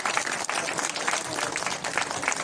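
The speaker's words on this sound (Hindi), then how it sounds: "एक बार जोरदार ताली से स्वागत करें भाई।" Crowd applause at a public felicitation ceremony in Hansi honoring a former municipal council chairman, a dense, steady wash of clapping that fills the whole stretch without letup.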